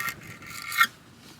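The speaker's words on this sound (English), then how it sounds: "scrape all that off and then put the new gasket and whatnot on" Old RTV gasket sealant being scraped off a BMW E36 engine, a raspy rubbing scrape that runs steadily for over a second and peaks in one sharper stroke near the end, close and fairly quiet.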